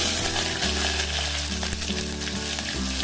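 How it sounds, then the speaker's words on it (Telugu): Cumin, mustard seeds, onion and green chilli sizzling hard in hot oil, a loud, dense crackling fry close by, with faint background music tones running beneath. "ఆయిల్ వేడైంది, జీలకర్ర వేస్తున్నా, ఆవాలు, ఆనియన్, పచ్చిమిర్చి"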